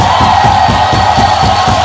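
A church congregation cheers and shouts loudly and continuously, with a steady roar of many voices and rhythmic pulses that suggest clapping underneath.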